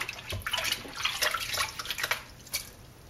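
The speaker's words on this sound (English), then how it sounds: "I'm going to go ahead and rinse off my hands" Soapy hands rinsed under running water while felting wool balls, an irregular splashing and dripping patter close by, with no speech.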